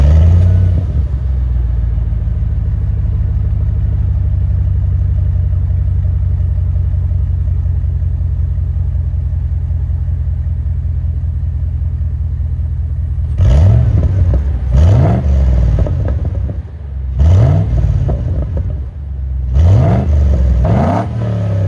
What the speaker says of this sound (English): And a couple revs from earlier today.